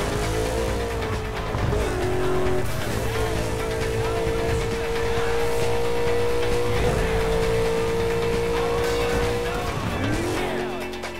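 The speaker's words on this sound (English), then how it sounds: "Drive at a ramp at top speed, then hit the e-brake to give your car some spin as it launches." A video game car revs at high engine pitch as it drives off a ramp at top speed and spins with the e-brake, a steady loud engine drone with shifting tone and tire squeals throughout.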